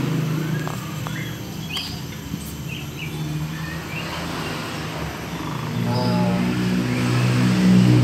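Small chirps from a caged pet bird hung at low height indoors, brief and fairly faint over a steady hum and background noise, with a vehicle passing nearby toward the end.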